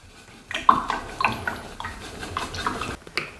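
Paintbrush rinsed in a water jar after acrylic painting, soft close-up swishing with small clinks and splashes of bristles tapping against the container, quiet and alone.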